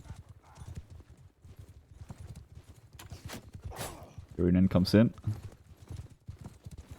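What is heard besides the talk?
horse hooves of cavalry unit, from a video game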